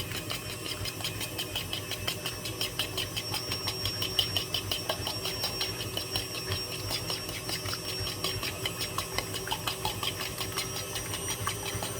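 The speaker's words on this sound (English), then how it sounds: "Whisk them up." An electric mixer whisks cheesecake ingredients with a steady mechanical whir and a fast rhythmic pulsing that holds at moderate loudness for twelve seconds.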